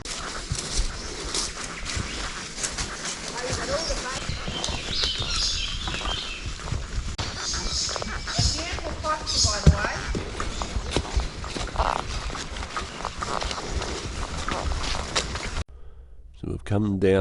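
Horses on a trail ride walk in file through Vanuatu countryside, hooves clip-clopping irregularly under steady outdoor ambience while people talk.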